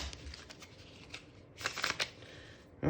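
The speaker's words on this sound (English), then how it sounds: "Oh, they shuffle nicely." A standard deck of playing cards is shuffled close up, soft riffling and flicking followed by a louder burst of rapid card riffle, fairly quiet with no speech.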